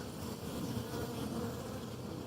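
Bees buzz in a steady, dense drone around a Flow Hive feeder, continuous and close with no talk.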